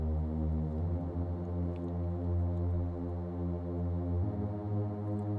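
A large synth patch plays a slow chord progression, with sustained tones washed in reverb and delay; chords shift twice, steady and moderately quiet, with no speech.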